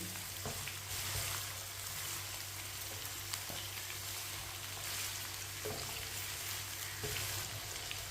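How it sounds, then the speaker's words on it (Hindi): Mixed pickle ingredients sizzle steadily in hot oil for a winter pickle, a faint continuous frying crackle with occasional soft stirring clicks and no talk. "चार मिनट के लिए मैंने इसे भून लिया। ये देखिए ऑयल कितना ही गर्म हुआ है।"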